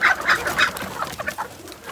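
Chickens on a village farm cluck close by in quick, bright bursts that are louder at first, then continue as softer scattered clucks under low background noise.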